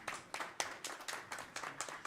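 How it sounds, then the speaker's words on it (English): Applause at a World Health Summit regional meeting, heard as a small, faint group of claps in a fairly regular rhythm, roughly four to five claps per second, with no voices over it. "Big round of applause."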